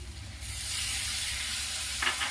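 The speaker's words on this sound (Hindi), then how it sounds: "अदरक लहसुन का पेस्ट अच्छी तरह भुना चुका है। इसमें मैं अब टमाटर डालूंगी।" Tomatoes go into ginger garlic paste frying in a pan, bringing a sudden loud, steady sizzle with a low hum beneath and a couple of spoon scrapes near the end, close up and without talking.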